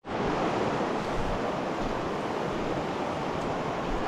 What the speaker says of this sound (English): Well into a gorge here. Waterfall.